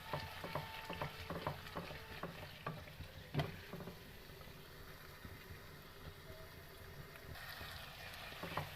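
Tomatoes cooking down in a pan for mutton liver masala, a faint low sizzle with repeated soft scraping and mashing taps from a spoon, quiet and close.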